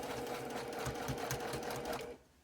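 A sewing machine runs steadily while stitching a curved quilt seam, its close, continuous motor whir carrying a rapid mechanical stitch pulse for about two seconds before it stops abruptly.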